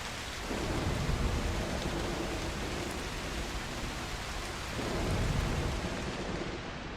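A thunderstorm in the video game Broken Pieces: steady heavy rain hiss with deep rolling thunder that swells near the start and again toward the end, continuous throughout with no voices.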